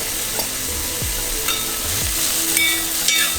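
Onions sizzling in a pan with Kashmiri chilli, curry leaves and salt, a steady frying hiss with a few stirring scrapes, close and continuous with no talk.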